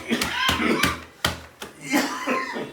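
A man coughs repeatedly at close range, several sharp bursts spaced unevenly, with some voiced sounds in between.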